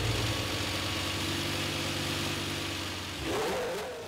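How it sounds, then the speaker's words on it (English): A Formula One race car engine in India fires up after long repair work. It runs with a low, rough idle hum and a short rising rev near the end, heard close and fairly quiet. "the engine starts"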